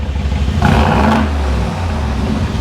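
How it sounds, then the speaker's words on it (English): A Mercedes-AMG G63 with a Capristo exhaust, valves open, revs loudly, flaring up sharply with a throaty roar, then settles back into a deep, rumbling idle. "Rev it again, Manoj."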